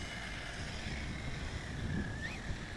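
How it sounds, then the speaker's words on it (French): Wind blows outdoors and buffets the microphone with a steady, rushing broadband roar that swells slightly in gusts; no one speaks. "Il y a un peu trop de vent."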